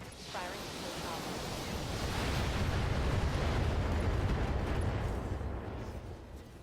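Mech weapons firing at full power in the BattleTech video game: a sustained, dense roar of blasts and rumbling that swells to a peak in the middle and then eases slightly, with no voices.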